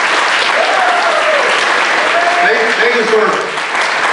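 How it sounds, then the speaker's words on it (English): Audience applause fills a presentation hall, steady and loud throughout, with a speaker's voice talking over the clapping and a few shouts from the crowd. "why don't you give them a big round of applause right now?"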